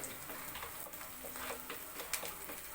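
Mutton curry masala sautés in a pan until browned, giving a faint, steady sizzle with scattered light scrapes and clicks from stirring.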